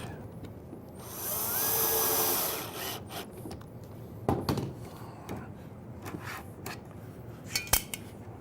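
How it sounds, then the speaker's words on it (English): A power drill whirs for a couple of seconds as two screws are driven into a cabinet drawer slide, followed by clicks, knocks and handling noises of the hardware at close range. "We're going to go ahead and put 2 screws in the slide."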